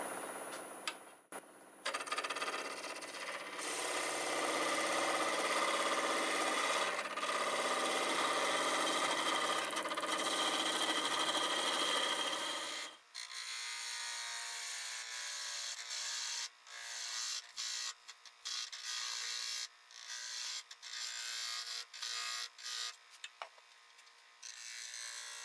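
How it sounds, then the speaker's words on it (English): A spindle gouge cuts a wooden fence post spinning on a lathe, a loud continuous scraping whir for about thirteen seconds, then the cut stops and a thinner, broken hum with brief bursts continues to the end. "I'll go ahead and use a spindle gouge to finish cleaning this up"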